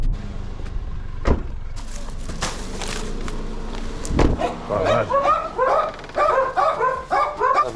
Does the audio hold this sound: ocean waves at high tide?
no